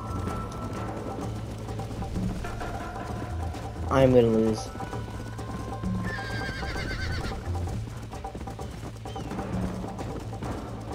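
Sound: horse galloping and neighing in Red Dead Redemption video game

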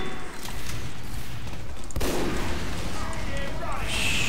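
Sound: sniper rifle headshot in Team Fortress 2 video game

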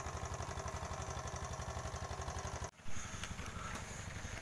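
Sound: diesel engine on a sand-mining boat

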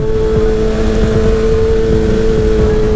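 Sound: Honda CB1000 motorcycle engine running without exhaust

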